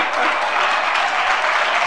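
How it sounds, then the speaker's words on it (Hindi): Audience at a Jain religious question-and-answer gathering with Sudha Sagar Ji Maharaj breaks into steady, dense applause that continues throughout at even volume. "देखो जम की तालियां बजाएंगे।"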